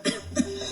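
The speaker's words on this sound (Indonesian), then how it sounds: "Batuknya nggak berhenti-berhenti." A person with a past tuberculosis infection coughs twice in quick succession, close and loud in a quiet indoor room.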